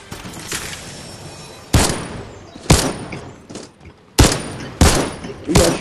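Bursts of gunfire in the video game Fortnite, several sharp volleys of shots spaced irregularly over a few seconds, loud and close, with brief quiet gaps between.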